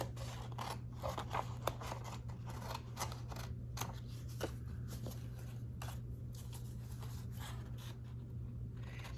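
Scissors cut down the side of a paper snippet roll in a long run of quiet, close, irregular snips and crisp paper crunches.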